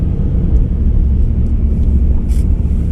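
A four-wheel drive car driving, heard from inside as a steady, loud low rumble of engine and road noise with no talking.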